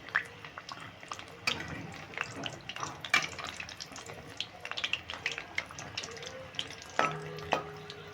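Crispy evening snacks fry in a pan as each piece is turned over, giving irregular close clicks and scrapes over a soft, steady sizzle, with a brief hum near the end.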